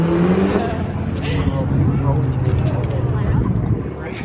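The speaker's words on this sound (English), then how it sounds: "That was one of those three-wheel slingshots." A Polaris Slingshot three-wheeler drives past at a car meet, its engine rumble loud and steady over several seconds while people talk nearby.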